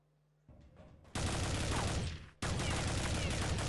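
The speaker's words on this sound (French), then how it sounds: "Ça tire beaucoup à travers les murs." Gunfire in a Counter-Strike match at a women's final, a sudden burst of rapid automatic shots, loud and continuous, then a brief break before another sustained volley.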